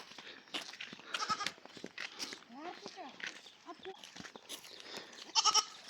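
Goats bleat repeatedly in a village with livestock, short wavering calls close by mixed with a few footsteps and faint voices.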